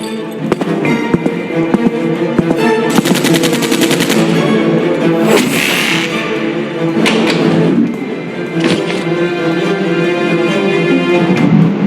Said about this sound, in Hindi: तभी अचानक उस पुलिस ऑफिसर को कोई शूट कर देता है।